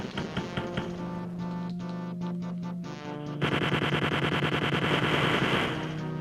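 Rapid machine gun fire in the Wolfenstein 3D video game, loud repeated bursts of fast rattling shots over game background sound.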